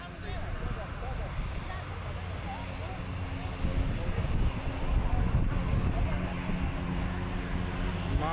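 A heavy jet engine roars low and close, swelling louder over several seconds amid crowd chatter and wind, as a large United airliner passes overhead on landing approach at Maho Beach, St. Maarten.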